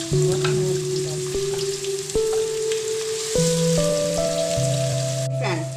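Steady sizzling of onions frying in hot oil, close and continuous, with a faint tonal hum or music underneath and no talking.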